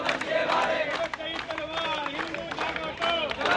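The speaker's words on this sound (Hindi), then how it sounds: "भाई मनोज तोमर के समर्थन में दिल्ली पुलिस हेडक्वार्टर पर सभी सनातनियों की भीड़ आप देख सकते हैं।" Crowd of protesters outside Delhi Police headquarters, a loud dense mass of shouting and chanting voices with scattered clapping, continuous and close.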